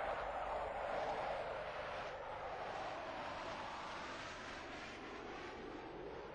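A jet engine runs in a steady, loud, broadband roar that holds constant throughout with no break and no voices over it.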